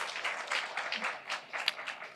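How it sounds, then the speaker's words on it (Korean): Audience applause fills a university hall at Yeungnam University's 75th-anniversary global forum: a steady, fairly soft wash of many hands clapping with no voices. "박수 좀 부탁드립니다."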